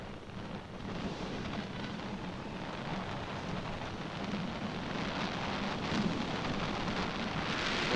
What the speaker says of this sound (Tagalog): Tragis ulan to. Ulan na naman to.